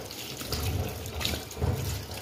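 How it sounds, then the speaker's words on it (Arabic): Tap water runs steadily over a spleen in a kitchen sink, rinsing off lemon and salt, with a continuous close splashing hiss that swells in two brief surges. "انا هاخده اغسله تمام، اغسله كويس برضو من الليمون والملح"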